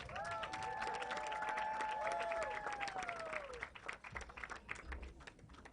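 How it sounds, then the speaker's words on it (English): A conference audience at the COP27 UN climate summit applauds a panel guest, steady massed clapping topped by high whooping cheers that fade, leaving the clapping to thin out toward the end. "Big round of applause for Nina."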